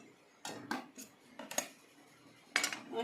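Boiled hog plums are lifted out of a cooking pot with a utensil, giving a few separate metallic clinks and scrapes against the pot, close and clear, with quiet gaps between them and no talk.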